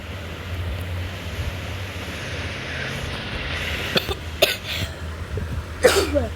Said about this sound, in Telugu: కొంచెం కాఫ్.